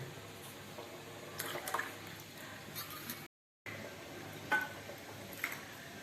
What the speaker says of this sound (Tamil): தண்ணி விட்டுக்கிறேன்